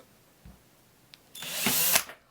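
A power drill bores a straight hole into a wooden log for a homemade fireplace candle: a loud, close whine lasting under a second, preceded by a few faint knocks, with no talking.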